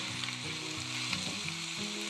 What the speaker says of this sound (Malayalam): മീൻ വറുത്ത എണ്ണയ്ക്കകത്തോട്ട് തന്നെ ഇഞ്ചിയും വെളുത്തുള്ളിയും പേസ്റ്റ് ഇട്ടു